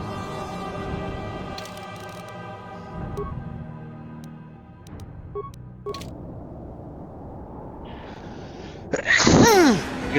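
A single loud sneeze close by near the end, breaking through quiet background game music and soft room sound during a video game session.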